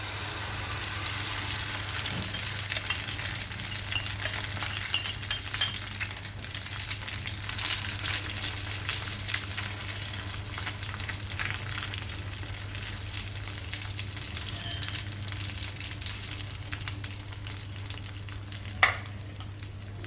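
Semiya omelette batter frying in hot oil in a pan, a loud, steady close sizzle that holds evenly throughout with only a faint clink near the end.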